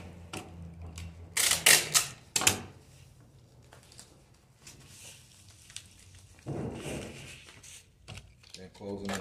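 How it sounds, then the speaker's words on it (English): Packaging being folded over to ship a liquid soap bottle: a few close crinkling, rustling bursts and softer handling noises, with someone talking in between. "just folding that over"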